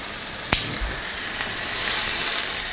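Steak searing in a hot pan, a sharp metallic tap at the start followed by a steady, bright sizzle that swells slightly as the meat is pressed down, with no talking.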